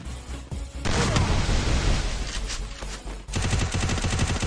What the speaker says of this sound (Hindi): ओके चलिए एंग्री कहने की ताबड़तोड़ फायरिंग हो रही है एंग्री पे